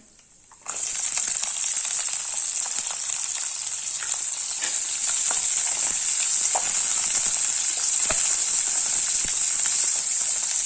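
Garlic and small shallots dropped into hot oil for green gram rice, bursting into a loud, bright, continuous sizzle after a quiet start, with occasional crackles and pops close by.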